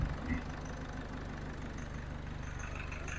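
Car engine idling steadily after turbo and injector repair, a close, even diesel-like rumble with a regular low pulse and no misfire, a brief louder burst at the start.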